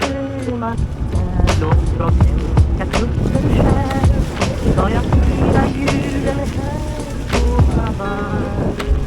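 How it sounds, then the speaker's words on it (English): A small passenger boat, carrying about ten people, pulls away from shore in the Gili Islands. A loud, constant engine and water rumble fills the air, mixed with wind and nearby voices. "Our boat is leaving"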